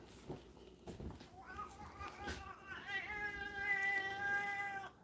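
A cat meows with a long, rising and falling harmonic cry near the end, following shorter vocal sounds, while a person talks to the animals during a grilled cheese treat session.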